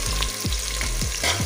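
Onions frying in hot oil for a goat-head gravy curry: a loud, close, continuous sizzle and crackle, with a few quick stirring scrapes, no talk.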